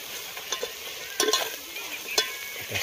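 Spices and grated coconut fry in oil as they are stirred, a quiet hiss under a few distinct spoon scrapes and clatters, one burst around the middle and another later, close up with no talking.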